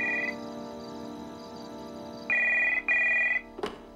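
A cartoon telephone rings with bright electronic trills, one short burst at the start and two longer loud rings later, close and clear over a low background hum.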